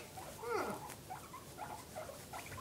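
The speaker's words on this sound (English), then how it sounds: "You're making noises, Piggy." A guinea pig squeaks softly a few times, with short rising chirps and faint rustling nearby, no talking.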